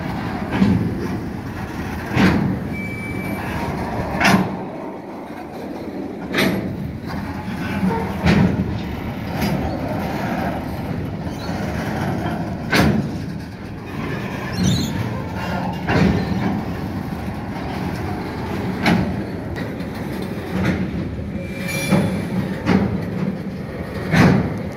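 A freight train of RNDY wagons converted from standard gauge rolls past in Townsville, Queensland, with rhythmic clanks and clacks of the wagons repeating over a low rumble at close range.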